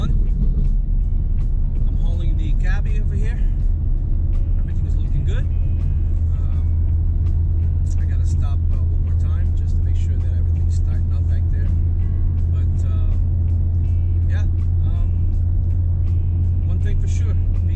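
A car tows a 1991 Volkswagen Cabriolet along a road, producing a constant low engine and tyre drone inside the cabin with someone talking over it.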